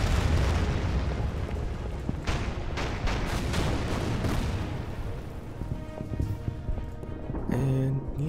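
Naval bombardment from a battleship supporting an amphibious landing in the Pacific war strategy game Order of Battle Pacific: a steady rumble of booming explosions and heavy blasts, with music-like tones entering near the end.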